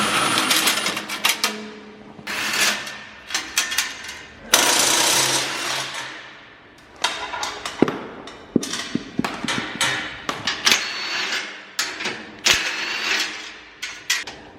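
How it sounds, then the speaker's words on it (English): A power tool buzzes in short, uneven bursts, starting and stopping repeatedly with rattling mechanical clatter between runs, while assembling an M2R pit bike from its crate. "Not many people let me loose with power tools."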